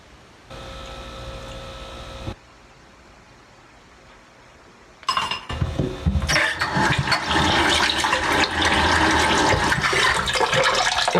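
Hands are washed under a running tap. A low hum gives way, after a quiet stretch, to an abrupt, loud, steady rush of water that continues to the end.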